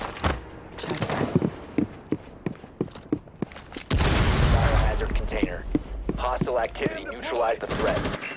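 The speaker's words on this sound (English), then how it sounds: "She's shooting from a hole behind us" Gunfire rattles through a Rainbow Six Siege match, with a string of rapid, close single shots followed by a loud sustained burst, and a player talks over the shooting.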